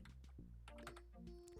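Quick clattering keystrokes on a computer keyboard during a Frog Fractions game session, a rapid irregular run of close, crisp clicks that are fairly quiet and come without talk.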